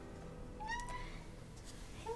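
A house cat meows softly indoors, two or three short, quiet mews early on over a low, steady room hum, with no talking.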